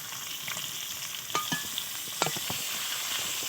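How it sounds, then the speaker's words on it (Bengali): Pangas and tengra fish fry in oil rendered from the fish. The close, steady crackle carries scattered pops and a couple of sharper spatters, with no voices. "ওই তেলে দিয়ে মাছটা ভাজছি।"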